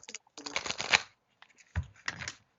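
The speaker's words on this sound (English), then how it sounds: "I just like shuffling, and I know the sound is awesome" A deck of cards gets shuffled up close in a few quick riffling bursts with brief pauses between them, crisp and papery against a quiet background.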